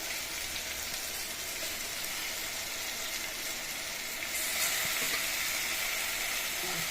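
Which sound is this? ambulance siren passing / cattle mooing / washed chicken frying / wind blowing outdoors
washed chicken frying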